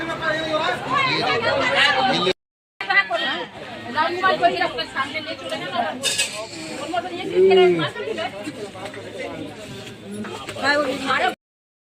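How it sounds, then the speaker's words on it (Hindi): A large, dense crowd at a temple, its babble of many overlapping voices filling the space and close by, with a short silent gap partway through. "बड़ी आफत है, बहुत भीड़ है, बहुत ज्यादा।"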